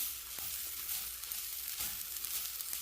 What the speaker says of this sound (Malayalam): ഇനി ഇതുപോലെ ഒന്ന് ഇളക്കി കൊടുക്കാം.